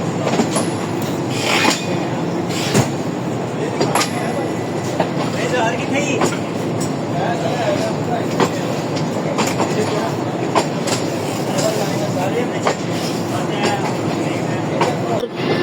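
Pak Business Express train led by a GU40 diesel locomotive, heard from on board as a steady rumble with repeated clickety-clack wheel beats and occasional sharp knocks, with talk over it.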